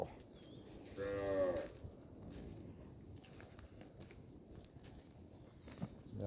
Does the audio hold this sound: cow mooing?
yes